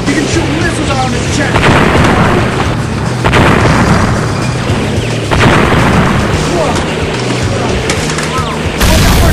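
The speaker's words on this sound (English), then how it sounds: "I can shoot rockets out of my teeth!" Rockets fired and exploding in a space video game about fighting tigers, a dense, continuous barrage of loud booms and bursts with no let-up, filling the whole stretch at high level.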